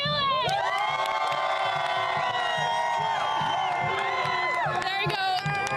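A large crowd of Iraq football supporters cheers and shouts steadily, with high whoops and children's voices rising above a loud, continuous roar that stays dense throughout.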